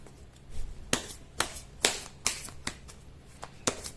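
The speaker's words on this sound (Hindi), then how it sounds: "कर लेती हूँ कार्ड की शफलिंग" Tarot cards being shuffled by hand, a quiet series of sharp riffling snaps at an uneven rhythm, close and alone with no talk.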